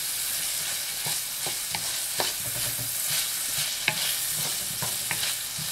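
Shredded peppers stir-fry in a hot pan for zucchini noodles, a constant close sizzle broken by scattered scraping and clacking from stirring, with no voices.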